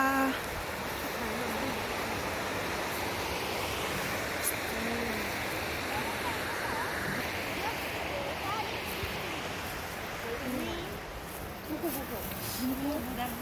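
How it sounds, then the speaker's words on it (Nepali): A mountain stream rushes over rocks at Tukrey Khola, a constant loud wash of flowing water with people talking nearby over it. "सुसा यहाँनिर खोला पनि छ"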